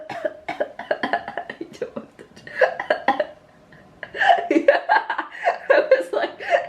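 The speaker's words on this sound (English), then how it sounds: "I usually cough to help, so if you hear me coughing" Several close, harsh coughs come in bursts, broken by a short pause, with chuckle-like sounds mixed in.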